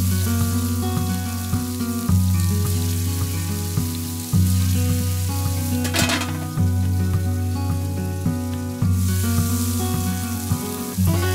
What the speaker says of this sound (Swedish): det är dags att lägga på strutsfilén som får ligga på kanske en 3-4 minuter